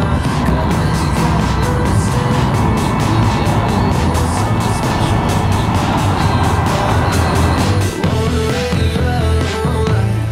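Car driving down a road during a filmed tracking shot for a Volvo commercial, with a steady close engine and tyre roar throughout and a brief shift in the road noise near the end, no talking.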